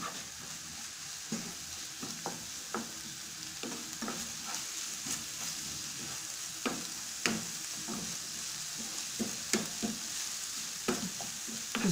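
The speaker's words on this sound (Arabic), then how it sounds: "وغنخلط هادشي مزيان" Filling for cigars with kefta and briouats with chicken and shrimp being stirred in a hot pan, a steady sizzle with repeated scraping strokes of a spoon, close and continuous, no voices.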